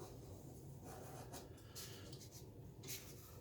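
A blade slicing through cardboard beside a straight edge, making faint, soft scraping strokes with a couple of brighter rasps, quiet and close in a still room with no talking.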